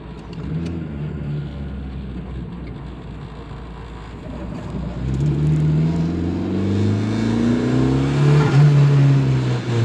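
A turbocharged Premier 118NE classic car restomod engine accelerates hard toward 7000 rpm, its pitch rising steadily as it revs higher, loud and close with a swelling roar and no voices.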